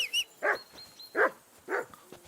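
A dog in Kingdom Come: Deliverance II gives three sharp, close barks about half a second apart, loud and alone.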